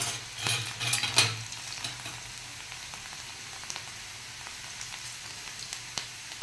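Crispy okra (bhindi) sizzles steadily in hot oil over a full flame, with a few louder stirring scrapes near the start before the frying settles into a continuous crackle with no talking.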